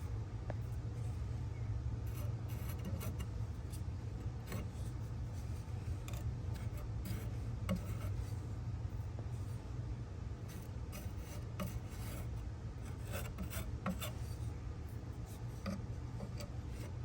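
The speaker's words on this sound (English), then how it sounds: "here we've got our wood filler and a putty knife, and we'll go in and we'll start building that up." A putty knife spreads and builds up wood filler along a furniture edge, producing faint, repeated scraping strokes over a low steady background hum, quiet and close, with no talk.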